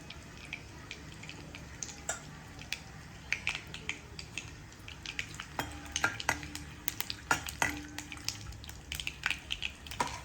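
Curry leaves, asafoetida and turmeric sizzle in hot oil, giving a soft, steady frying hiss broken by scattered crackles and pops close by, with no speech.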